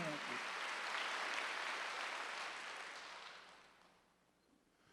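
A congregation at a Korean church's Wednesday worship service breaks into full, dense applause. It holds steady for several seconds and then fades away toward the end.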